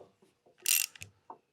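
A workpiece for a capstan cap is tightened in a lathe chuck: a short ratcheting, metallic clatter with a few light knocks, close and isolated.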